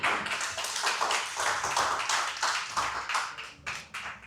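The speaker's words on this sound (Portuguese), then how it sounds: "Uma salva de palmas para a Pursuit Elite." An audience applauds the Indian Pursuit Elite motorcycle with fairly faint, steady clapping that rises and falls in uneven bursts for a few seconds, heard alone without talk.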